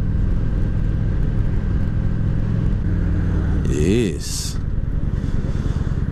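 A motorcycle carrying a puppy rides along a road, its engine rumbling steadily and loudly throughout with wind noise, easing briefly near the end before resuming; someone talks over the ride.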